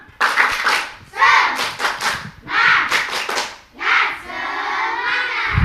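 Children clap a rhythmic 'tepuk semangat' cheer at an elementary school event, bursts of sharp claps in patterned groups, loud and close, ending in a sustained flurry of clapping.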